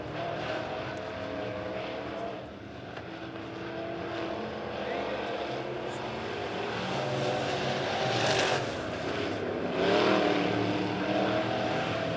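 Midwest modified race cars roaring around the dirt oval at Springfield Raceway during a heat race, a steady loud engine drone with surges as cars pass close, track announcer talking over it.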